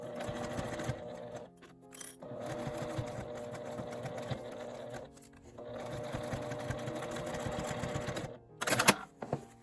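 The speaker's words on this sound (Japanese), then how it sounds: "最後に真ん中を留めて1センチの縫い代で縫います。" Sewing machine stitching a zippered fabric pencase with a 1 cm seam allowance, running in steady mechanical bursts separated by short pauses, close and clear with no talk.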